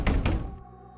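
Two quick, solid knocks land on a wooden door, close and dull, followed by a fading hollow resonance.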